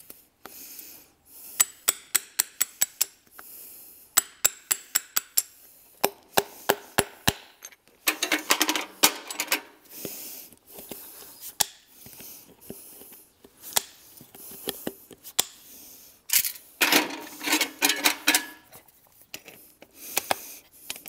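A farrier hammers nails into a horseshoe, striking sharp metallic blows in quick rhythmic bursts. Scraping and rasping work is mixed in between the bursts, close up with no talk.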